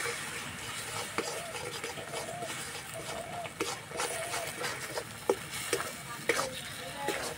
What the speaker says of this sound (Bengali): এইভাবে অল্প অল্প দেবো, নাড়বো।